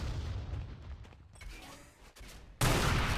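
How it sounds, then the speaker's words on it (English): Rocket launcher fire in Quake during a duel match, a burst of several booming shots close together, followed by a sharp, loud blast near the end. "3 rockets coming out like that."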